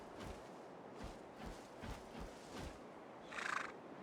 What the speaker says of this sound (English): There's a very aggressive sounding horse.